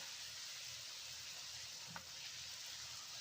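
Nendran banana chips frying in coconut oil give a soft, steady sizzle with a single small pop midway, quiet and even throughout.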